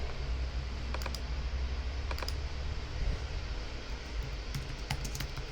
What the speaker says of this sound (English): and I just type here